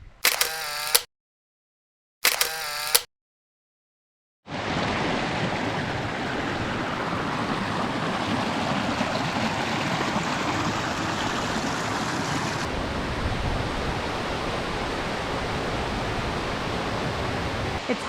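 Two short mechanical bursts open before a waterfall beside Iceberg Lake Trail in Glacier National Park sets in as a constant, heavy roar of falling water, shifting slightly in tone partway through.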